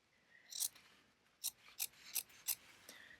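Scissors trim quilting fabric in a quiet room: a short snip, then a few crisp, close cuts spaced about a third of a second apart, with soft rustling between.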